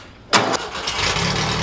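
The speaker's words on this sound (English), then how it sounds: "Engine started up, first try, little starter fluid in there because the fuel system has to prime" A sand rail's engine catches on the first try after a dose of starter fluid, a sharp loud burst settling straight into a close, steady idle.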